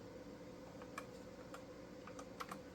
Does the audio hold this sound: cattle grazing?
no